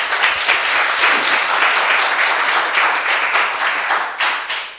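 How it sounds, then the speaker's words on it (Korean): An audience at a festival gives a presenting team a steady round of dense, close applause that holds for several seconds and then tapers off near the end. "큰 박수로 맞이해 주십시오"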